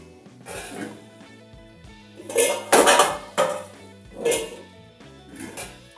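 Metal pots, pans and a gas stove are shifted around on a kitchen counter while cooking bitter gourd curry, making several loud clanks and scrapes in bursts, with a heavy crash near the middle and lighter clatters afterward, without talk.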